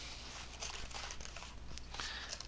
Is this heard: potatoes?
no